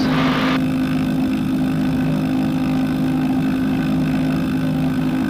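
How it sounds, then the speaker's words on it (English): A Zenith STOL CH 750 Super Duty light aircraft engine warms up at a constant idle on snow, a loud continuous hum close by, with a brief hiss at the start. "So letting the engine warm up."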